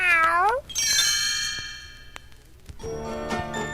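A short high kitten meow, followed by bright chiming bell tones ringing out and a second meow-like cry near the end.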